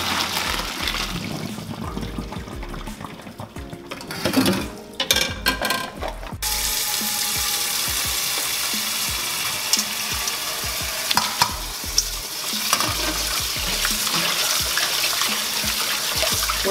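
Cooked Korean guksu noodles are drained and rinsed under running water: a loud, steady rushing hiss with splashing and clattering, starting choppy and then pouring continuously.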